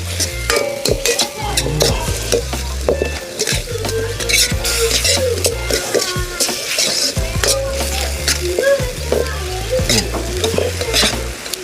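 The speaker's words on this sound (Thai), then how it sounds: "คนทุกอย่างให้เข้ากันครับเนี่ย" Fried tilapia pieces being stirred with lemongrass in a hot pan, a loud steady sizzle broken by continual scraping and clattering of the spatula against the pan.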